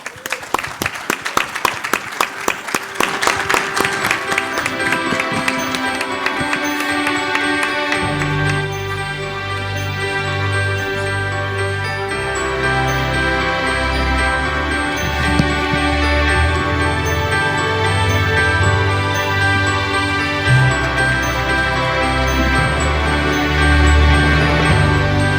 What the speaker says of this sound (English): Clap should not stop till the time they are on the stage.